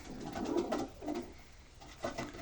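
Pigeons cooing softly in a loft at night, a few low, rolling coos close by in a quiet space.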